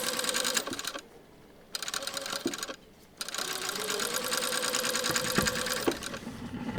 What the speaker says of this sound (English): So I'm going to stitch all the way along